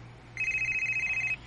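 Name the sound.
telephone ringing in a radio drama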